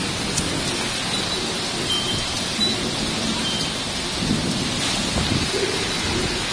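Steady heavy rain pours down on flooded Bukit Timah Road in Singapore with a constant dense hiss, loud and close, with no talking over it.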